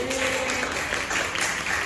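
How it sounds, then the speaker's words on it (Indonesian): Soft, steady audience applause at a talk show, a short even patter of clapping heard at a distance. "Tepuk tangan dong"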